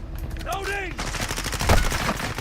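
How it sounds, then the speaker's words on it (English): Rapid gunfire in the video game Call of Duty: Modern Warfare II crackles loudly and continuously, with a short radio-style voice callout at the start. "I'm taking fire!"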